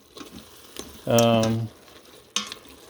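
Green onions and celery fry in a pressure cooker pot, a bright sizzle swelling up for about half a second mid-clip over low kitchen noise, with a brief clatter near the end.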